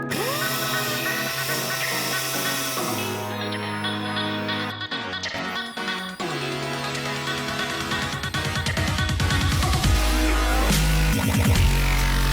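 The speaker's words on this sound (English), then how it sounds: "I'm sanding it down." A power sander working over the body of a Nissan 300ZX Z32 in a garage, running loud and continuous with a shifting whine and rasp as it changes pressure and position.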